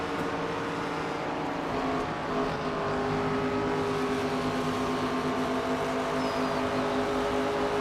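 A stock car's engine drones steadily in the NASCAR 25 racing game on PS5. The roar is loud and continuous, holding a sustained pitch through the whole lap with no speech.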